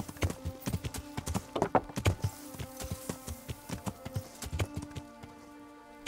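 Horse hooves clip-clopping in the video game Kingdom Come: Deliverance, a steady, uneven rhythm, fairly close, with faint background ambience and no talking.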